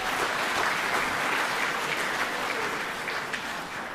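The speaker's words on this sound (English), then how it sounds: "A round of applause for the Arts Booster Club." Audience at an elementary school spring concert claps steadily for the Arts Booster Club, a dense, continuous wash of applause lasting about four seconds that eases slightly toward the end.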